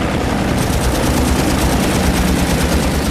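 Loud, dense rattling bursts of aircraft machine-gun and cannon fire mixed with a roaring piston-engine drone, continuous and close throughout, in a WWII dogfight between fighters and German aircraft over Lake Balaton.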